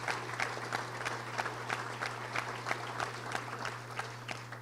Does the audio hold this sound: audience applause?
yes